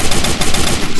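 Rapid gunfire in a shooting video game, a loud continuous burst of automatic shots with a fast rattling rhythm filling the whole moment.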